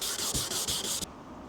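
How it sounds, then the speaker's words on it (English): Fine-grade wet-and-dry sandpaper rubs with fluid over a surface on an Audi S4, making a close, hissing scrub in quick back-and-forth strokes that stop abruptly after about a second. "we're just going to clean it using something really nasty. Sandpaper. Wet and dry. Fine grade."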